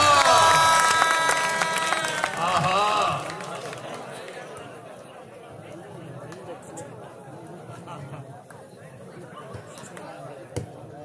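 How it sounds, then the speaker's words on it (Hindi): Audience applause and crowd noise at a kabaddi match in a stadium, loud and dense for the first three seconds and then thinning into a murmuring crowd, with a commentator's voice speaking over it. "तालियां।"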